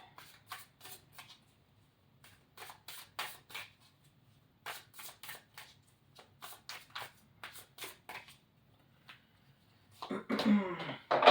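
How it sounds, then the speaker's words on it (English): Repeated short dry bursts, like a person coughing or clearing the throat several times in an uneven rhythm, with a louder rustling burst at the end. "Coughing."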